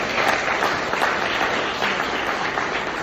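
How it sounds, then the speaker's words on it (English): A roomful of leadership-training attendees breaks into a big round of applause, a loud, continuous wash of many hands clapping close by with no talking over it. "So give yourself a big round of applause."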